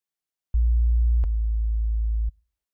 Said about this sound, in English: loading sine waves on each oscillator like this